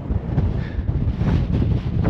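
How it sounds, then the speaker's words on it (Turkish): Strong wind buffets the microphone at a scenic, cloud-swept viewpoint in the Purmamarca area, a steady roaring rumble with gusty swells throughout and no voices. "Bayağı rüzgarlıymış burası."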